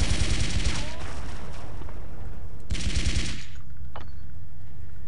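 Rapid automatic bursts from the Tulsa cannon in the shooter game Blood 2, two loud rattling volleys separated by a short pause, followed by a brief ring.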